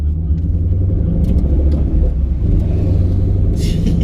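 A Chevy SS drag car wearing extra emblems idles with a deep, steady engine rumble at a drag racing event, close and loud throughout with a little faint background noise.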